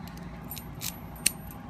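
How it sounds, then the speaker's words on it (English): A small set of Kiso padlock keys jingles in hand, light metallic clinks and one sharp tinkle, close and fairly quiet with no talk. "this is a set of Kiso keys from one of my padlocks"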